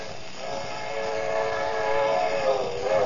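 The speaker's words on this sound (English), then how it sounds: "There's a train coming." A radio sound-effect train rumbles past with a steady mechanical drone and a sustained whistle tone rising slightly in loudness, no talking.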